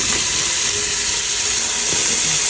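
Beef pieces hitting a hot pan with onion, garlic and ginger for papaitan, a loud steady steamy hiss and sizzle throughout, with no talking.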